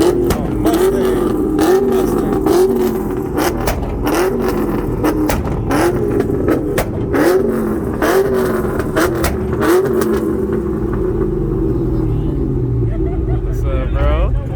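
A Ford Mustang revs repeatedly at a car meet, loud rhythmic engine pulls rising and falling roughly every second, with crowd chatter and voices mixed in nearby.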